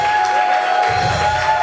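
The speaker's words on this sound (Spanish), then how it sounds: "dale ese aplauso bien grande a papá." A church congregation applauds and cheers loudly, a dense crowd roar with clapping that swells after a brief lull and carries on to the end.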